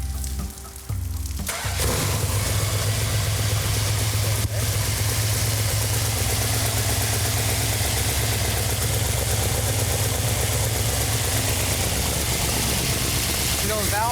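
A rebuilt engine cranks and catches about a second in, then settles into a loud, steady idle with a constant mechanical hum for the rest of the clip.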